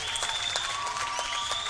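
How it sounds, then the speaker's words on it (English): A crowd at an individual fencing medal match claps steadily in dense, continuous applause, with scattered cheers rising through it across the whole short stretch. "Big cheer for Jennifer Scotland"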